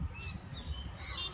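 Faint squawks and chirps of several birds in an aviary at Dumas, Surat, overlap briefly in a distant, low background.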